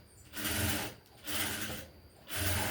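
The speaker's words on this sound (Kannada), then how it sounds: "ಇವಾಗ ನಾನು ಪೈಪಿಂಗ್ ಏನು ಕೊಟ್ಟಿದ್ದೀನಲ್ವ ಅದ್ರ ಮೇಲೆ ಹೊಲಿಗೆ ಹಾಕ್ಕೊತಾ ಬರ್ತೀನಿ." A sewing machine stitches over piping on a lined blouse in three short runs, each a close, steady mechanical whirr separated by brief pauses.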